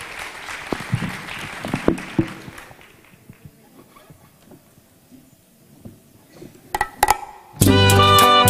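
An audience at the Juan de Dios Aranzazu theatre applauds a musical duo, clapping that thins out over the first few seconds. After a quiet gap, sharp sounds lead into loud sustained tonal music at the end.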